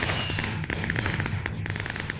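Minecraft fireworks launching and bursting in rapid succession, a dense crackling barrage of pops and thuds that runs continuously and loudly throughout.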